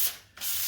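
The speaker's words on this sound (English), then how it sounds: "I just do a single pass with my Dixie Belle sanding sponge." A Dixie Belle sanding sponge makes a single quick pass over painted furniture: a short, close, scratchy rub with a brief break midway before the stroke finishes.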